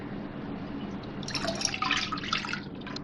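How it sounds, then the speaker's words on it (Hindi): Water pours into a cooking pan to start sugar syrup for halwa, a steady splashing trickle that grows brighter and more bubbly midway, close up with no talk. "पानी डालूँगी पैन में।"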